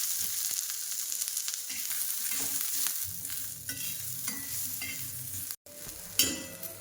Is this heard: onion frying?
yes